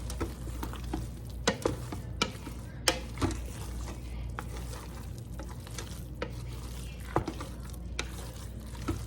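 A chicken, rice and broccoli casserole being stirred in an Instant Pot, with repeated scraping and knocking of a utensil against the pot over a low steady bubbling hiss. No one speaks.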